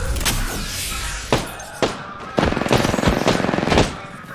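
Gunfire from the battle royale video game Apex Legends: loud, rapid automatic bursts with sharp single shots and thuds, the fire dense and continuous through the second half.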